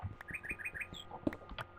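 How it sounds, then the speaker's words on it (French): Quick, high bird chirps from Minecraft repeat in a rapid run of four or five notes, then a higher call follows, over faint background game noise and soft clicks, near and moderately loud. "Non, mais l'oiseau qui me passe sous le nez"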